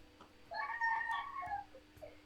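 A rooster crows once in the distance, a faint, drawn-out call that rises and then trails off into a few short clucks, heard alone against quiet room hum.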